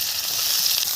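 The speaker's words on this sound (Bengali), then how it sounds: "তেল গরম হয়ে গেছে, পেঁয়াজ দিয়ে দিলাম" Onions frying in hot oil for a katla fish curry make a bright, continuous sizzle that stays even and close for a single second.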